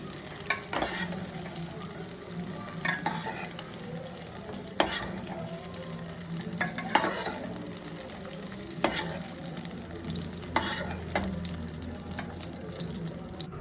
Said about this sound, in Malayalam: ഒരു കടായി ചൂടാക്കി അതിലേക്ക് കുറച്ച് എണ്ണ ഒഴിച്ച് ഒരു രണ്ട് ചെറിയ സ്പൂൺ എണ്ണ ഒഴിച്ചതിന് ശേഷം വഴറ്റി നന്നായിട്ട് വഴറ്റിയെടുക്കണം